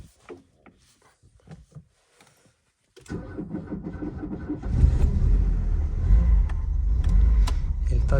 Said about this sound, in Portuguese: Vamos ligar o Santana.